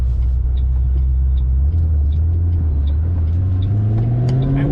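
A loud, supercharged 1000 hp Mustang GT500 engine drones close by, its pitch climbing steadily as it accelerates, with supercharger whine and a faint rhythmic ticking above the low rumble.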